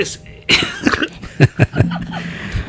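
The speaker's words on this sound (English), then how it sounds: "It's the coughing and spluttering" A few sharp coughs and splutters burst out close by, mixed with a chuckle and brief vocal sounds.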